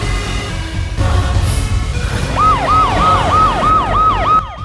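An ambulance siren wails loudly in a Hindi-dubbed action film, its rising and falling tone repeating steadily over a rumbling, tense background score.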